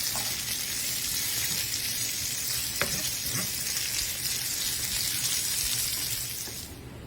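Pancetta fries in a skillet with a steady, close, dense sizzle that runs almost unbroken, broken by a couple of faint clicks partway through, and the sound thins slightly near the end.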